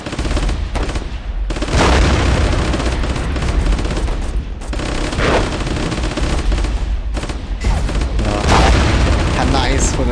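Warfare 1944 battle with booming artillery and rattling machine gun fire, dense and continuous with heavy thumps, as voices talk over the combat.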